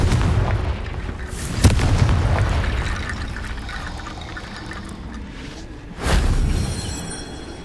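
Fire-blast spell explosions in the Hogwarts Legacy video game, two heavy booms several seconds apart over a rumbling ambient bed, each a sudden loud burst that trails off into a low roar.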